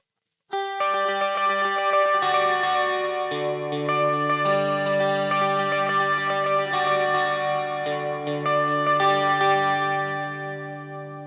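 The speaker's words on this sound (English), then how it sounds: "We can add in the overdrive as well here, and you can hear how that sounds." Overdriven electric guitar through a Boss GT-1 rings out with repeating delay echoes trailing each note, sustained and fairly loud, heard alone without talking.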